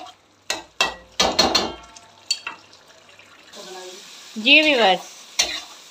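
Mutton liver roasting on a tawa, with sharp spatula scrapes and knocks over a soft sizzle, then a steady hiss and a tonal squeal; a voice speaks briefly at the start.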